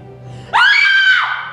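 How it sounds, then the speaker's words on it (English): A woman lets out one loud, sharp scream of fright, rising quickly and holding for most of a second before breaking off, close and alone over faint room tone. "Why did you scream?"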